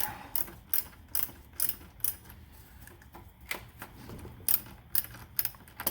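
Ratchet with a 10mm socket loosening a Honda car battery terminal, a rapid series of close, crisp clicking ticks in short uneven bursts.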